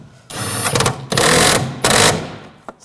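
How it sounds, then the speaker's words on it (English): A bolt is tightened while replacing the crankshaft position sensor on a 2007–2013 BMW 328i 3.0L inline-six, with three loud, close bursts of a buzzing, rattling tool separated by short pauses. "Now I'll tighten this bolt down."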